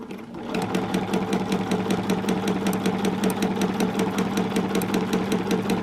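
A sewing machine stitches free-motion quilting in a fast, steady run of needle strokes, heard loud and close on its own.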